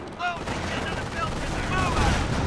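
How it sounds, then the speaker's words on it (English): Mortar shells and gunfire land in the Company of Heroes World War II battle at Vierville, a dense barrage of crackling shots and rumbling impacts mixed with game voices. "Oh, mortar's coming down."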